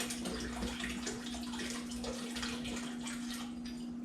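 Water running to rinse a glass vanilla extract bottle, a steady splashing flow from a tap at moderate distance with a low constant hum beneath and no talk.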